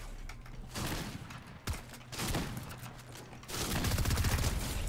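Gunfire in the Overwatch 2 video game, with bursts of rapid shots and sharp cracks from weapons, at times overlapping and growing to a dense volley near the end.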